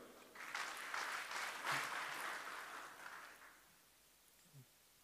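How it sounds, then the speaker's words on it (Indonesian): Audience applause at a speech praising President Joko Widodo, given by Budi Gunawan. The clapping is faint and distant, swells for about three seconds, then thins out and fades. "Sekali lagi tepuk tangan untuk beliau."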